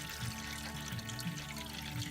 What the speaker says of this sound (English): Yeah, it looks like water just pouring out of there.